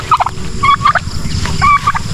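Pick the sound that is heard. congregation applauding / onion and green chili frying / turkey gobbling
turkey gobbling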